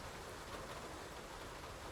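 Steady rain falls in a noir city scene from the video game Face Noir, a dense, even hiss of drops on surfaces that stays soft and unbroken throughout, with no voices.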